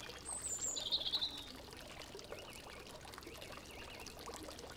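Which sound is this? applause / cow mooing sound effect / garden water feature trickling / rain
garden water feature trickling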